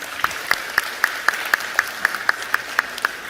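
Steady, evenly spaced claps from an audience at a speech by Megawati Soekarnoputri, beating in unison about four times a second, crisp and moderately loud throughout, with no talk over them.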